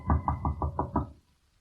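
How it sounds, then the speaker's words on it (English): A door is knocked on six times in a quick, even series of firm, close knocks, then silence. "Her father knocks at the door."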